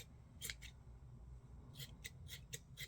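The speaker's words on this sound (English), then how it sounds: "These scissors are so satisfying to use because it has like a spring in it" Spring-loaded scissors trimming a yarn pom pom: crisp, close snips, a pair near the start and then a quick run of five or so, with no talking.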